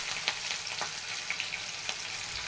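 Coarsely ground garlic and cut green chillies frying in hot oil, a steady dense sizzle with a few brief stirring clicks, close and continuous with no talking.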